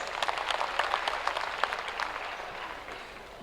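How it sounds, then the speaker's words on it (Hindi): Applause from an audience welcoming a state minister to the stage at a Bihar government event, dense clapping with sharp individual claps, steady and then slowly thinning toward the end, no talk over it. "अनुरोध है कृपया आए, तालियों से स्वागत करें हम सब।"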